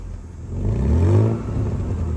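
A Mercedes-Benz W220 engine runs with one dead cylinder, a low uneven rumble that swells briefly into a rev and then settles, close and fairly loud with no speech.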